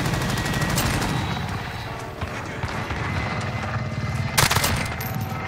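Rapid, dense bursts of RAM-7 assault rifle fire in Call of Duty: Modern Warfare, a steady rattling stream with a sharper burst near the end, mixed with game noise.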